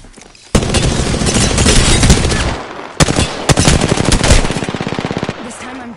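Loud, rapid automatic gunfire from Apex Legends rattles in sustained bursts, with a sharp break, then another long stream of shots that tapers into quicker, evenly spaced pops.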